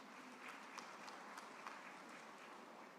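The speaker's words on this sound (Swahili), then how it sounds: "Tuwashukuru ndugu zetu wa Ethiopia kwa makofi mengi." Distant, faint applause from a congress audience for the Ethiopian delegation, a steady wash of clapping held at low level through the whole stretch without a break.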